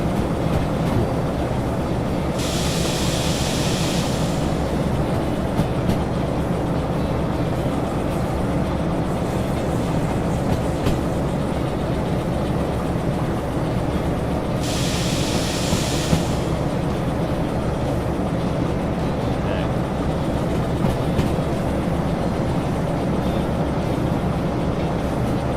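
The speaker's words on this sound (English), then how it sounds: "And then I can pull the caboose off of this and spot it so we can pick it up with the steam engine" A locomotive in Derail Valley pulls a caboose along the track. The rolling rumble is loud and continuous, with brief hissing bursts partway through and no talk.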